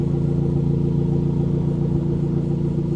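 A 2024 Toyota Tacoma four-cylinder with a MagnaFlow exhaust idles after a drive, a steady, loud, low rumbling drone close up, alone and unchanging.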